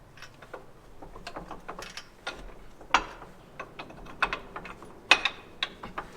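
Metal pin worked into the A-frame hitch of a farm tractor, with scattered clinks, scrapes and knocks at irregular intervals, a few sharper metallic hits standing out over quiet background rumble.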